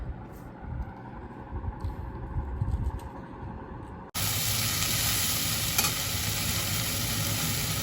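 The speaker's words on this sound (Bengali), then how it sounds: "আর দেখলে করলা আলু ভাজা" Bitter gourd and potatoes fry in a pan with a steady sizzle, stirred at first, then a sudden louder continuous hiss of frying, close and without talk.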